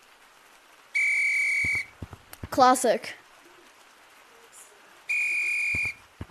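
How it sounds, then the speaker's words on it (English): Two sustained, steady whistle blasts from an in-game whistle item in Gorilla Tag, loud and clear at the start and end, with a brief burst of speech between them. "Got the whistle."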